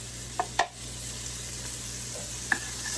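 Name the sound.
onions added and sauteing in a pan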